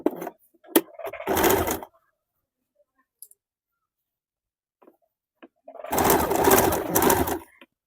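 Two short bursts of close sewing-machine stitching along a folded piping strip for a blouse, separated by a long quiet gap with a few faint clicks and handling taps.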